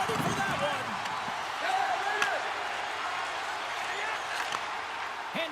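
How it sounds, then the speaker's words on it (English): Steady crowd roar from a hockey arena in the NHL 26 video game, loud and continuous, with occasional puck and board knocks beneath a commentator talking. "You can feel the energy in this crowd."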